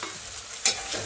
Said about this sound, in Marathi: मस्तपैकी फ्राय करून घ्यायचं